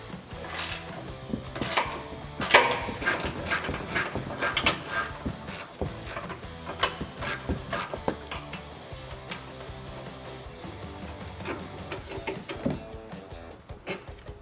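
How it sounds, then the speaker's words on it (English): A 21mm socket on a ratchet working loose a front upper control arm bolt on a Ford F-150, a close run of rapid mechanical clicks and sharp metallic ticks in uneven bursts, with no talking. "grab a 21mm socket and an 18mm wrench. Go ahead and break this loose."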